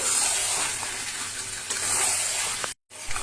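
Chicken pieces sizzle in a hot pan with potatoes and spices, a steady close hiss and crackle of frying with a short silent gap near the end.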